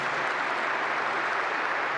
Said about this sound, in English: wait for the clapping.